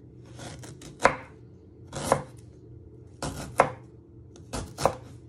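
A knife slicing through ginger on a cutting board, four separate crisp chops each with a sharp board knock, spaced about a second apart, close with quiet pauses between.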